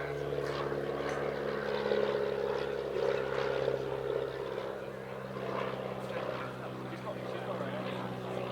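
An Auster AOP-6 propeller aircraft flies a display at the Midlands Air Festival airshow, giving a steady, droning engine note that holds level throughout with slight swells in loudness.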